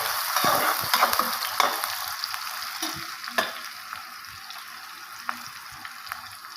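Two medium onions, chopped small, fry in a pan while being stirred, a bright close sizzle with scraping stirs that start busy and then thin out, and no voice.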